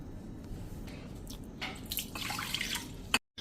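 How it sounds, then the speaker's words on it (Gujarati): Soaked lentils being rinsed in water in a kitchen, with soft sloshing and dripping close by that grows busier toward the end before a brief cutoff. "આ રીતે આપણે 2 થી 3 પાણીએ ધોઈ લીધી છે"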